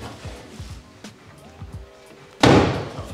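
A car door with a soft-close mechanism, on a rebuilt Italian car, shuts with one heavy thump near the end, after a run of lighter knocks and low background chatter.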